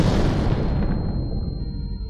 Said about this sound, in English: Got some loud explosions.